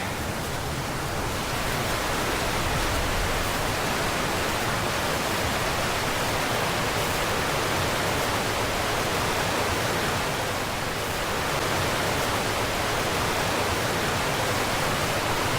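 Strongly flowing river water near a salmon fishing hole, a constant loud rushing wash that swells slightly at moments, with no one talking.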